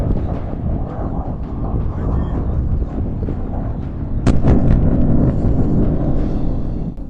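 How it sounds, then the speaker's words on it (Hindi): Explosion on the eastern front line in Ukraine, recorded on a mobile phone: a sharp blast cracks out midway through a continuous low rumble and roar that then swells and lingers, with faint talk underneath. "ये जबरदस्त विस्फोट हाल ही में पूर्वी मोर्चे पर कहीं एक यूक्रेनी सैनिक द्वारा फिल्माया गया था।"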